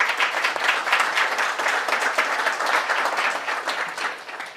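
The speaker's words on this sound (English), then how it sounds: "Round of applause for Afua." An audience at a New York rent regulation debate breaks into sustained applause, a dense steady clapping crowd that holds strong for several seconds and then begins to thin out.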